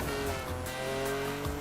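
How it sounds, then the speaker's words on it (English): A car attempts a drift in The Crew Motorfest, its engine droning steadily with a continuous tire squeal layered over it, loud and close throughout. "I was trying to do a drift."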